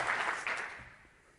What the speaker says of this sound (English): that's another round of applause in case you were wondering